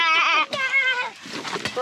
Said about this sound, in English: And here are the little goats behind.